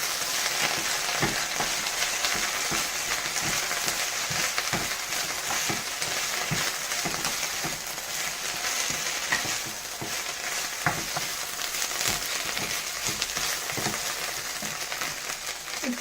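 Drumstick leaves and banana flower sautéing in a pan, a steady close sizzle with repeated scraping and stirring strokes throughout, no talking.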